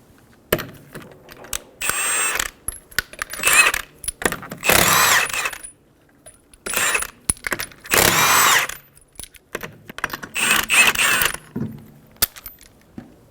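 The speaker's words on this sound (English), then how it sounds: "Using a 21mm socket, remove the 5 lug nuts." Lug nuts being removed from a 2007-2011 Toyota Camry wheel with a 21mm socket, heard as repeated bursts of power-tool whirring and metallic rattling, spaced with short pauses between each of the five nuts.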